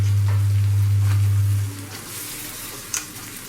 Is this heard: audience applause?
no